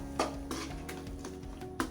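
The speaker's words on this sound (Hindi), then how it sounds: "अभी मैं इसको मिक्स कर लेती हूँ।" A spoon scrapes and clinks against a pan while ground spices for jackfruit masala are stirred over low heat, with a few sharper knocks among the softer scraping.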